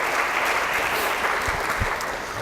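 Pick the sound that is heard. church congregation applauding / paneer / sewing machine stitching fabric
church congregation applauding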